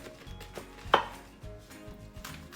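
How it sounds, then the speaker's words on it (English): A kitchen knife chops cabbage into strips on a board, with one sharp, loud chop standing out among several softer, irregular cuts close by. "So I just cut the strips across, I turned it"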